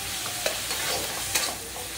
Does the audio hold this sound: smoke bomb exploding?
no